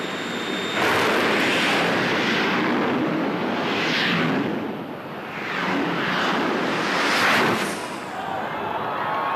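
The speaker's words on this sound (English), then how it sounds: "Pretty close to 300 miles an hour for those two jet cars." Jet dragsters roar off the line at the 1983 NHRA Winternationals in huge rushing blasts that swell and fade in waves, loud and close, with a crowd faintly underneath.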